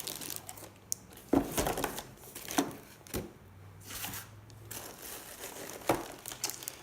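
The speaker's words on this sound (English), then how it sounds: "it's in a plastic bag here. Just open it up at the side." Plastic bag packaging around an NVR unit is handled and opened at the side, giving a series of close, sharp crinkles and rustles in irregular bursts with quiet gaps between them.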